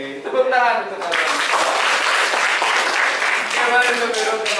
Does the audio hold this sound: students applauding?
yes